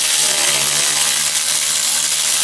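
A Milwaukee 1/4-inch ratchet with a 10mm socket tightens a bolt on a plastic fuel tank of a Briggs & Stratton 18HP Vanguard engine, giving a steady, close, loud mechanical clatter with no talk.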